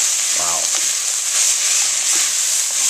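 Minced garlic sizzles loudly in a pan with peppers and onions in a constant frying hiss. A short stirring scrape and a few clinks sound close by, with no one speaking.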